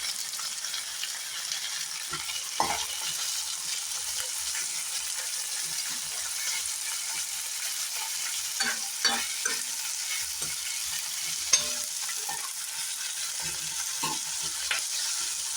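Chopped capsicum (bell pepper) sizzles steadily as it fries in a pan for a capsicum gravy, with scattered scraping stir strokes across the clip and no talking.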